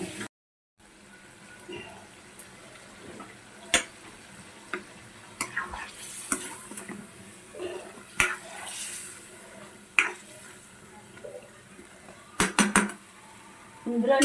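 Chicken frying in a pan for chicken dum biryani, a low sizzle broken by scattered clinks and scrapes of a utensil against the metal, with a few brief spoken words.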